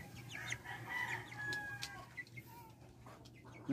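Chickens cluck and squawk in short bursts against quiet outdoor background, with a rooster-like call partway through, moderately distant.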